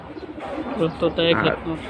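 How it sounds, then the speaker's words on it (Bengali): A large silver Tota-face pigeon coos in soft, low, throaty bursts close by, a few repeated notes over a couple of seconds. "এটা তোতা কবুতর, তোতা ফেস কবুতর"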